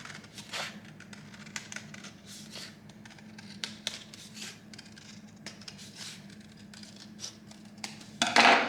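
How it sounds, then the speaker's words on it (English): Scissors snip around pre-drawn yellow, pink and blue paper shapes for a hot air balloon craft, giving soft, close, irregular cutting clicks and paper rustles over a low steady hum, with a louder crinkle near the end. "I've pre-drawn them, so I'm just going to cut them out"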